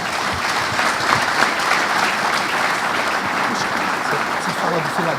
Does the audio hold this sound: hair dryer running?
no